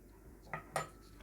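A metal fork pressing down to crimp and seal the folded edges of a filled gujiya pastry, giving two brief, soft clicks of metal against dough and plate in a quiet kitchen.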